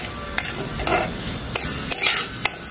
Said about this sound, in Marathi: खमंग वास सुटेपर्यंत भाजायची वरई।